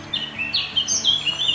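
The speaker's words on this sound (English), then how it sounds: "Listen to these songbirds." Songbirds chirp and tweet in repeated short high calls near Neuschwanstein Castle in the Bavarian hills, a few birds overlapping at close to moderate distance over a steady low outdoor hum.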